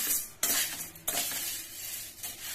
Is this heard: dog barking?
no